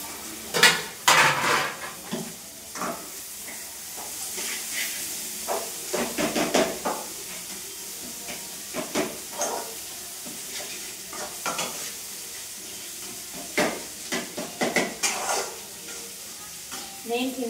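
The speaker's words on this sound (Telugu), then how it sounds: "ఎగ్స్ ఫ్రై అయిన తర్వాత మనం ఆల్రెడీ బాయిల్ చేసుకున్నాం అలసందలు వేసి కొద్దిసేపు ఫ్రై" Boiled black-eyed peas stir-frying with eggs in a pan give a low background sizzle under repeated clinks and scrapes of a utensil against the pan, in irregular bursts.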